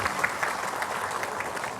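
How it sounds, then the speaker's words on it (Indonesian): A studio audience at an Indonesian religious talk show applauds steadily, a soft and even wash of many hands heard from a distance. "tepuk tangan semua Bu."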